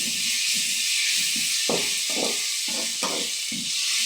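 Onions sautéing in a pan for chapathi noodles, a steady bright sizzle with soft stirring scrapes and shuffles over it, close and continuous.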